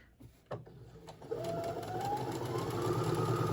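A sewing machine back stitching a seam on a patchwork tote, starting with a few short clicks before settling into a steady, quiet mechanical whir that builds slightly and runs continuously.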